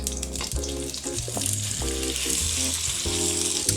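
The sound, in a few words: chicken frying in coconut oil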